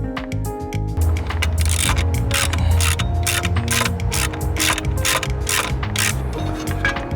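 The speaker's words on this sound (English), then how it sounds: "now we can come back with our tools and tighten all these down for good." A ratchet tool clicks rapidly and steadily while tightening bracket bolts on an EZ Bed Box bracket assembly, the close mechanical ratcheting continuing without pause throughout.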